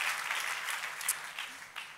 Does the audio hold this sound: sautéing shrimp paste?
no